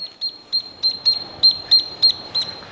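A duck quacks inside a car workshop where an abandoned Mazda RX7 is being restored, giving about eight short, bright, close quacks in a loose steady rhythm over faint room noise.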